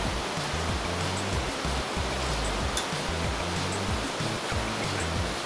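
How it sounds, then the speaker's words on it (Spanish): Water poured gradually into dry baleada flour dough mix, a steady close rushing splash that runs without pause. "hay que ir echando poco a poco el agua"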